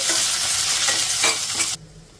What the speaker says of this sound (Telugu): ఇప్పుడు మీడియం ఫ్లేమ్లో ఇలా కలుపుకుంటూ 1 నిమిషం ఫ్రై చేసుకోవాలి.